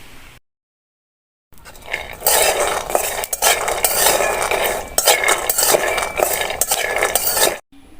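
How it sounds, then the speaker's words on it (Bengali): Peanuts dry-roasting in a kadai are stirred continuously, giving a steady loud scraping and rattling of nuts and utensil against the pan after a short silent pause, with no talking. "বাদামগুলো ভাজা না হওয়া পর্যন্ত ভালো করে নেড়েচেড়ে ভাজতে থাকবো।"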